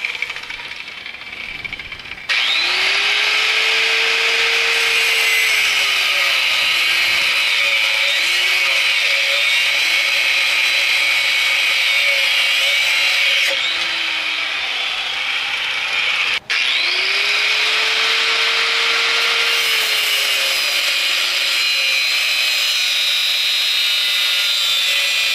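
A power tool cuts through a splined steel wiper motor shaft, producing a loud, continuous high grinding whine with wavering pitch that carries on for over twenty seconds, broken briefly by a sharp click partway through; no talking.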